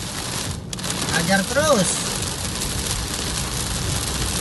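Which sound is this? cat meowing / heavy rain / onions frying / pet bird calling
heavy rain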